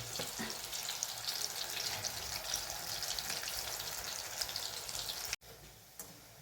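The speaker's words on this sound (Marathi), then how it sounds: "तर मित्रांनो अशाच पद्धतीने हे सर्व भजी मला असे तळून काढायचे आहेत" Spinach bhaji fritters sizzle steadily in hot oil, a loud, close hiss that runs unbroken for several seconds, then cuts off abruptly and drops to a quieter sizzle with a brief clatter.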